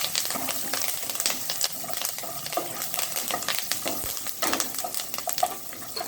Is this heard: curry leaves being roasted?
yes